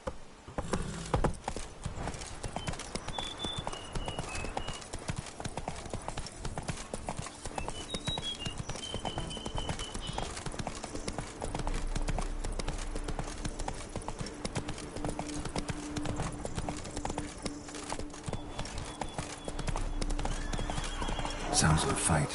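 Clip-clop hooves of a galloping horse pound steadily in The Witcher 3, with loud neighs and whinnies breaking through a dense game soundscape.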